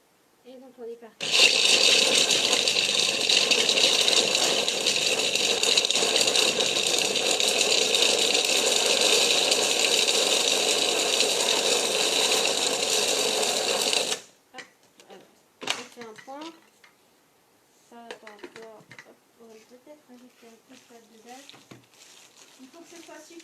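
A food processor blends a sticky date paste mixture, running loud and steady for about thirteen seconds before stopping, after which someone speaks briefly.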